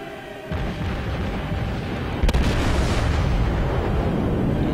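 Naval gun salvos and shell impacts in the World of Warships video game, with the Arkansas battleship in beta: a continuous heavy rumble of booming fire, with one sharp loud blast near the middle, close and dense, no talk.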